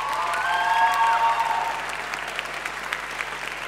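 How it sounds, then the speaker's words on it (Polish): An audience applauds at a young talents showcase, a dense wash of clapping that swells early and then settles into steady, even applause for the rest of the moment. "Wielkie brawa."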